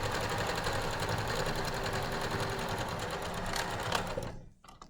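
A sewing machine runs steadily while stitching a double rolled hem in fabric, a fast, even mechanical whirr and rapid needle clatter that continues close up for several seconds before stopping abruptly.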